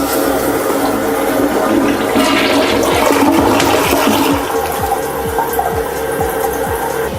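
A household toilet flushes loudly and close, a continuous rushing surge of water with gurgling and refilling throughout, with no one talking.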